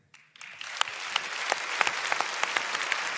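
A comedy show audience breaking into applause, clapping starting abruptly and building into steady, sustained hand claps from a sizable crowd, with no speech over it.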